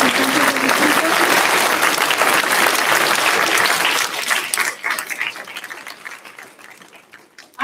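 Loud, sustained audience applause for school district representatives at a ribbon cutting ceremony, a dense wash of many hands that thins out and fades toward the end.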